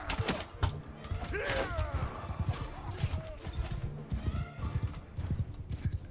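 Horse hooves clip-clop steadily with a whinny partway through, set amid a medieval battle in the video game Bannerlord, with busy background clatter and no clear speech.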